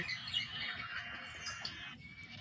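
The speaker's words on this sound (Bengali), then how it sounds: "ওই পাখিটাকে গাছে যে ডাকছে ইষ্টি কুটুম ইষ্টি কুটুম মিষ্টি সুরে" A songbird's calls and chirps, used as a sound effect in a Bengali short story about a yellow bird singing in a tree, run steadily over a low background hum, with no voices.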